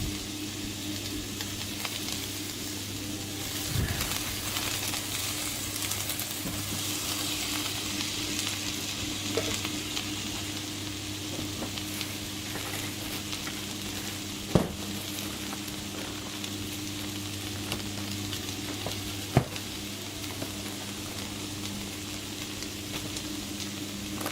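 Onions frying in a pan while hot dogs are being made, a steady close sizzle running throughout, with a few sharp clicks and knocks, and no talking.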